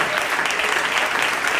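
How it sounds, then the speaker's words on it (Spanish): Brief burst of dense applause from a church congregation during an evening prophetic service, a steady loud wash of clapping with no pause. "Dale un fuerte aplauso al Rey de Gloria."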